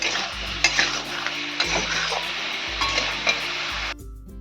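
Spiced masala paste with a little water being stirred and fried in a pot for a Bengali rui fish curry with drumsticks, sizzling with repeated scraping spoon strokes against the metal, close and busy, then cutting off near the end.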